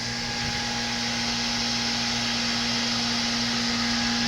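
An air conditioner on a Prestige 460 Fly motor yacht runs loudly with a steady, close whirring hum and constant airflow hiss, alone and unchanging throughout.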